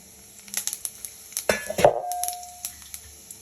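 Cumin seeds and dried red chillies drop into hot oil with a quick crackling sizzle and a few light clinks of a utensil against the pan, close and fairly quiet, with no voices.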